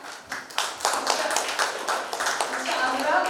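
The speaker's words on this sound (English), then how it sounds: "Let's welcome them all with a clap." An audience at a CSR partnership conclave claps to welcome the panelists. Dense, continuous applause fills the room, mixed with some voices.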